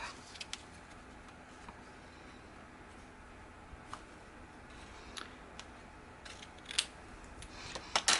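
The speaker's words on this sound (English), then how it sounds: "So with that, we're going to cut the top." Scissors cut paper for a Halloween junk journal pocket, making quiet crisp snips that come sparsely at first, then cluster and grow louder toward the end, with no speech.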